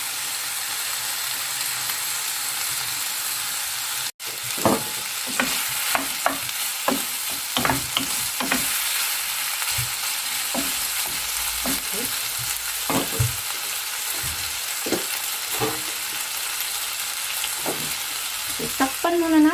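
Tomatoes cook in a hot pan for binagoongang talong, a continuous sizzle broken by repeated sharp clacks and scrapes of stirring, with a sudden loud bang early on and no speech.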